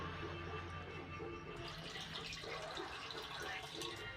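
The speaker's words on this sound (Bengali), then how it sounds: "এখন আমি হাড়ির মধ্যে দুধটা ঢেলে দেবো" Milk is poured into a clay pot while making sweet curd, a soft continuous liquid trickle that stays faint and close, with no one speaking.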